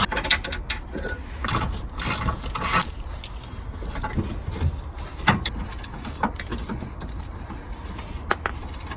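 A ratchet works the last bolt out of a gearbox brace under a Toyota Auris, giving quick repeated clicks and clanks of metal with some general workshop clatter, fairly close.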